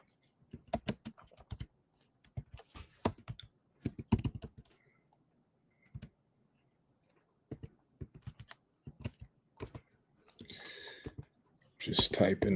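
Bursts of fast clicking keystrokes on a computer keyboard, close and crisp, separated by short pauses, with brief speech and a rustling noise near the end.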